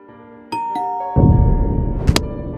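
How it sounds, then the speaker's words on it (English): A doorbell in an animated story gives two quick bright chimes with ringing overtones, then a loud broad wash of sound follows. "Suddenly, the doorbell rang."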